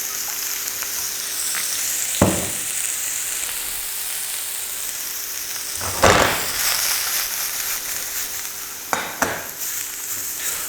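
Mushrooms and a splash of oil fry in a hot pan, a steady close sizzle with a few louder bursts as food is stirred or added.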